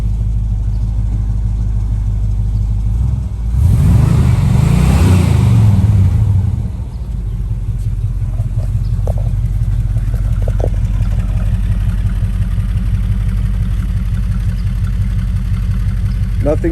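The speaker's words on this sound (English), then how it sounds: "Give it a little gas." A stock 1979 Chevrolet Camaro engine idles loudly and steadily, swells in one brief rev for about three seconds with a little gas, then settles back to a rumbling idle.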